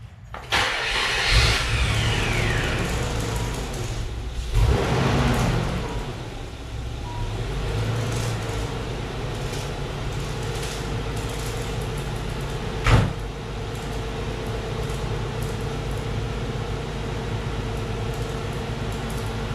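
Nissan 300ZX Z32 engine after an accessory belt change, cranking and catching with a loud start, then settling into a steady idle with a brief sharp knock or click midway.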